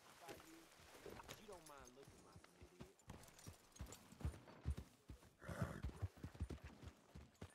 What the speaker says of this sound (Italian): Mi sediamo a cavallo.